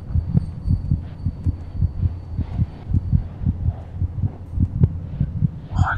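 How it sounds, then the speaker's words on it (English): A steady heartbeat pulses in the horror video game Among the Sleep, loud and close, thumping in regular double beats over a low hum for the whole stretch. "Oh, I can hear his heartbeat."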